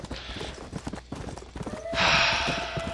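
Horse hooves clip-clop in the video game Red Dead Redemption Undead Nightmare, a quick rhythmic patter of steps followed by a brighter rush of game sound near the end.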